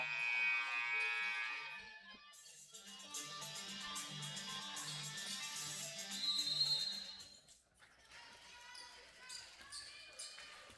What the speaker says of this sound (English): The buzzer about to sound in the gymnasium to indicate it's time to keep playing basketball.